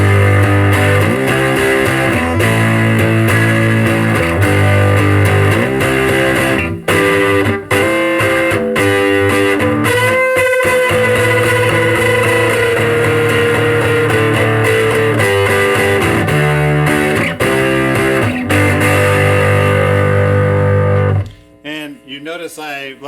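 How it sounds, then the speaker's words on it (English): A Stratocaster electric guitar plays through a Thank You, Guitar pedal with its gain at 200, giving a loud, sustained, heavily distorted tone with chords and ringing notes for about twenty seconds before cutting off. "If we switch to gain factor of 200, this is where all of the distortion comes in."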